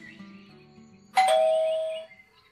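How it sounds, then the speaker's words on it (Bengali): A doorbell chimes once at a house door, a bright ding-dong tone that rings out clearly and fades over about a second against a quiet room. "এমন সময় দরজায় কলিং বেল বেজে ওঠে।"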